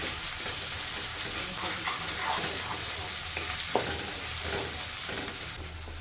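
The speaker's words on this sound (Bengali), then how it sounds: "এখন ভাজা করতে হবে ভালো করে, তারপরে যেতে হবে মাংস।" Ground spice paste of cumin, poppy seed and nuts frying in a pan for chicken gravy, a steady close sizzle with occasional stirring scrapes throughout, no talking.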